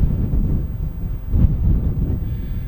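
Wind buffets the microphone in a continuous low rumble at a small seaside cove, gusting slightly stronger midway, with no voices.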